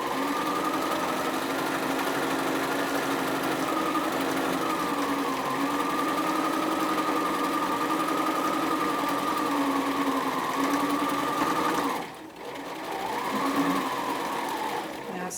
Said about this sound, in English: we're going to stitch around the pocket